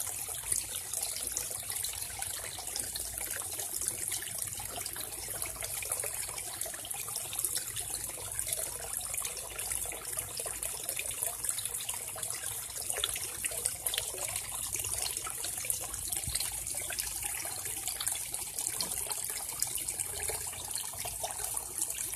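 Water spouts splash steadily into a garden fish pond, a constant broadband rush and patter of falling water with no pauses, close by and moderately loud.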